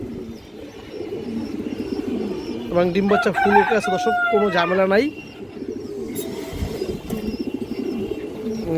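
Pair of high-flyer pigeons in a loft, a loud crowing rooster-like call rises over cooing and bird noise for a couple of seconds while someone talks throughout.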